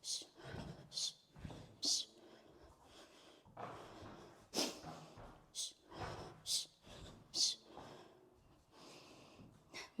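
Faint, rhythmic snoring sounds like soft snorts about once a second, heard indoors during a home Muay Thai workout class on a cold, overcast day.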